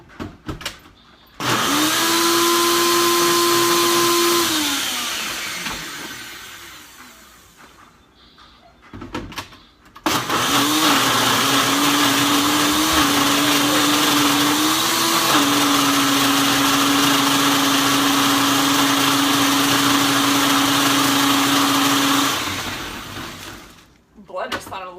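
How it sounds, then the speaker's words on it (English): A blender making spinach ice cubes whirs loudly and a little rough in two long runs separated by a brief pause, its motor pitch wavering and dipping slightly as it churns. "Blender sounded a little rough."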